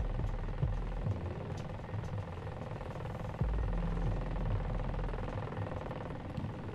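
A hostile drone hovers in Ghost Recon Breakpoint, a continuous low whirring engine drone with a throbbing rotor texture and occasional thumps, steady and close. No talk is heard.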